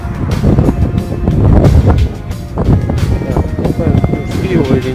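Gusty wind buffets the microphone in loud, uneven rumbles while a person talks over it outdoors on a city walk in Tyumen.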